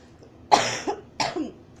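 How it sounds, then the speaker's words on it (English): Two short, dry coughs close by from someone getting over a cold, about half a second apart, with quiet room tone in between. "Excuse the cough"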